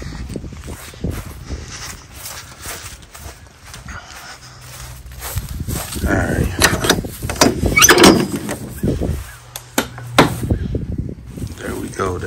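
The side door of a car trailer rattles and slides open, and scattered clunks and footsteps come before and after it. People talk nearby throughout.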